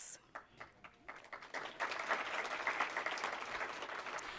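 Audience applause at a graduation ceremony, starting with scattered claps and swelling into steady, dense clapping from a moderately distant crowd.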